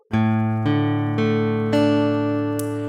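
Four plucked guitar notes, picked down from the 5th string, ring out one after another at a slow, even pace, each sustaining into the next, with a brief higher scrape at the end.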